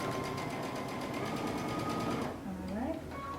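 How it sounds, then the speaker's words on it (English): A sewing machine stitches steadily through the layers of a cape's fabric, a close, fast, even mechanical whir that stops near the end, followed by a brief backstitch burst. "we're going to stitch through all layers"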